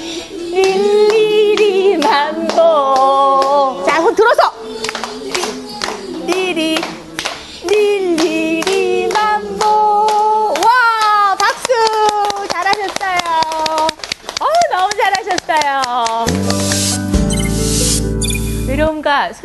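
A group of elderly people at a day-care centre claps together in time during a cognitive activity session, with steady rhythmic claps running under loud singing and talk and a sharp burst of noise near the end.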